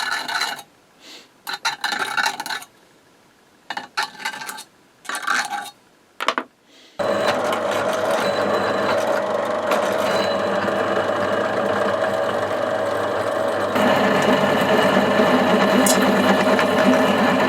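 A drill bores holes into a Meier & Weichelt mobile workbench to mount a vise, first in short separate bursts, then in one long steady whine that holds to the end, close and loud.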